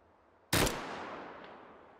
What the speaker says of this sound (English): this is 3-round burst